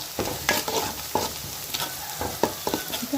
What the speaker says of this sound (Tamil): இப்போ நல்லா வதங்குது